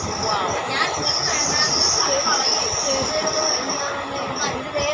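Loud, steady rumble of a train rolling along rails on the Nilambur line in Malappuram, with metallic squeals rising over the continuous clatter.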